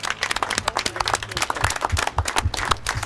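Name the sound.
audience applause at a flag raising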